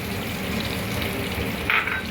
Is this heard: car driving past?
no